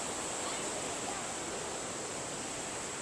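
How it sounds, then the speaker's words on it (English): Bushkill Falls waterfall on a busy holiday-weekend trail, a constant, broad rushing roar of falling water that stays even and unbroken throughout. "This is our first waterfall."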